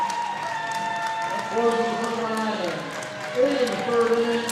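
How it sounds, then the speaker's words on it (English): Cheering and applause from a baseball crowd and teammates for a senior pitcher, a steady swell of crowd noise under music-like tones, with louder bursts of cheering. "he gets some hugs and cheers from both his teammates and the crowd"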